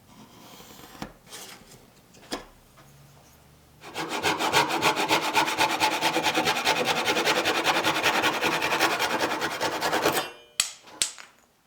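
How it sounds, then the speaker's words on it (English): Hand sawing through plywood to cut a hexagonal back piece for wooden dice: a steady, rapid rhythm of rasping back-and-forth strokes for several seconds, close and fairly loud, framed by a few knocks and handling sounds before and after. "I'll mark that on the plywood and cut it out."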